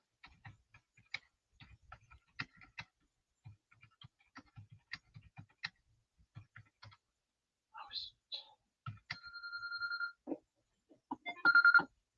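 A phone ringtone sounds near the end as short electronic tones, first a sustained beep and then a brighter burst. Before it come sparse faint clicks and taps, with voices nearby.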